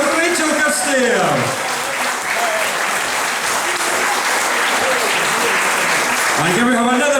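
Loud applause fills a bowling club concert hall for a singer, dense and steady clapping throughout, with a voice heard briefly at the start and end.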